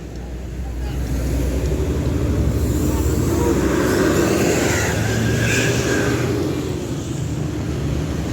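Steady engine rumble of road traffic in a severe jam passing close by, a continuous drone with vehicles idling and creeping along, voices faint in the background.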